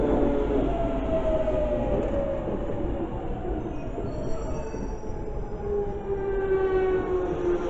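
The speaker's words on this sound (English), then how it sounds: "It's the Underground Jubilee Line service bound for Wembley Park." A London Underground Jubilee line train bound for Wembley Park rumbles loudly at Dollis Hill station, its wheels squealing in long drawn-out tones over a continuous rolling roar.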